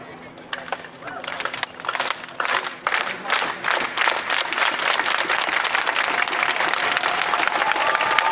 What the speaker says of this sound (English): So let's end it again with a clap.